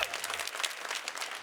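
Brief applause from a studio audience after an opening statement at an Ontario leaders' debate, a short burst of clapping at moderate level that fades quickly.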